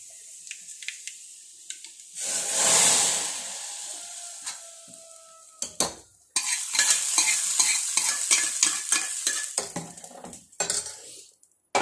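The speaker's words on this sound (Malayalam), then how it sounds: "രണ്ട് മുട്ട ഉണ്ടായിരുന്നു അത് പൊരിക്കുക" Eggs fry in hot oil in a pan, a short burst of sizzling followed by repeated scraping and stirring clicks from a utensil, close up with no talk.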